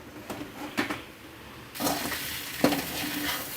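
Egg kothu parotta is stirred in a pan over a medium flame. Faint sizzling runs throughout, broken by a few sharp scrapes and clinks of the spatula against the pan.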